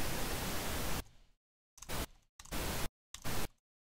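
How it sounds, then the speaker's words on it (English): Bursts of pink noise used as a sound-check test signal: a steady broadband hiss for about a second, then three shorter bursts separated by silence, with no talk over it. "if you can hear my pink noise"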